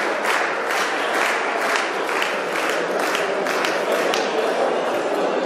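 Loud, dense applause from a crowd at a 75th anniversary evening gala of the FEP Ile-de-France as board members come on stage, continuous clapping throughout with sharp individual claps standing out.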